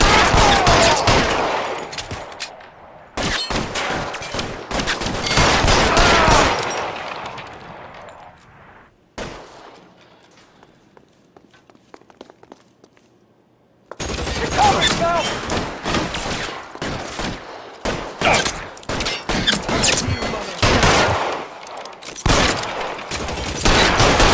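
Rapid bursts of gunfire in an L.A. Noire video game shootout, loud volleys of shots packed together, then a stretch of near quiet, then heavy firing again with sharp repeated cracks.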